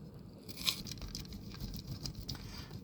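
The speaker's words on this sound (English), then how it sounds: "grating the cheese here" Cheese being grated by hand for an avocado quesadilla, a faint, soft scraping patter with a brief louder scrape near the start, continuing quietly over low background noise.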